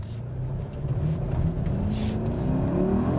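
A 2020 Mercedes-Benz GLS 580 SUV with a twin-turbo V8 accelerating hard, its engine note rising steadily in a continuous loud drone, heard from inside the cabin.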